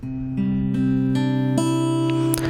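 An acoustic guitar suspended-second chord variant rings out with sustained harmonic tones, shifting through a few changes as new notes are struck; clear and close, no voices.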